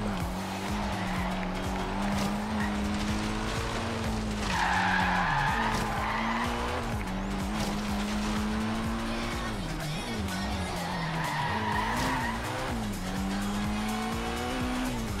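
Tires skid and squeal under hard braking on a '92 Alfa Romeo 155 Q4 in the Forza Horizon 3 racing game, the engine droning steadily with a loud screech rising mid-run and again later.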